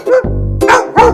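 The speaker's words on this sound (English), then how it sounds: "It's a dog. Dog says woof," A close, loud dog barks a few times in quick succession, with a low growly sound between the barks.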